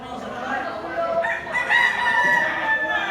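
Gamecock bull stag rooster with blue legs crowing and clucking at a cockfighting venue in Cebu, close and fairly loud over background chatter and crowd noise.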